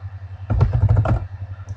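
A computer keyboard with a small fault is typed on in a quick burst of rapid, close keystrokes, between quieter stretches of low background hum.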